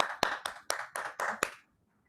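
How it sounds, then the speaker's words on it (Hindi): A small audience claps in about six sharp bursts to welcome a speaker on stage at a branding talk. The applause is close and evenly spaced, then stops abruptly into silence. "तो प्रमिला जी, मैं तालियों के साथ में आपका वेलकम करता हूं।"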